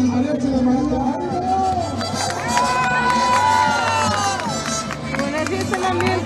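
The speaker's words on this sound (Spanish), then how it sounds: "Señores, el aplauso por el mariachi de María." A lively crowd at an outdoor street gathering in Guerrero, Nuevo León cheers, shouts and claps for a mariachi performance, loud and close with voices and whistles rising over the din.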